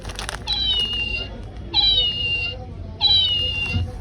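Talking toy cat in a toy shop meowing three times at steady intervals, each a high, clear electronic meow over a low murmur of shop background noise.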